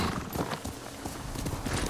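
Quiet clip-clop of horse hooves in a steady trotting rhythm, from the video game Ghost of Tsushima, unaccompanied by talk.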